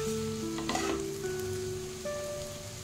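Pasta ingredients sautéing in a pan, a steady close sizzle with scraping stirs near the start, a faint musical tone running underneath.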